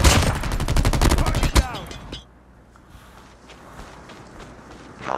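Rapid automatic gunfire in the shooter game Call of Duty Mobile, a loud close burst of shots for about two seconds, then quieter footsteps and faint distant game sounds.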